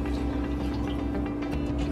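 Water poured into a cooking pan holding strawberries and sugar, a short steady filling splash with a continuous liquid rush throughout and no talking.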